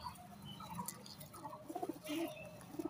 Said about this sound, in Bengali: এটা হচ্ছে জিরিয়া ম্যাড্রাস পায়রা, অনেকে সবুজ ম্যাড্রাস পায়রাও বলে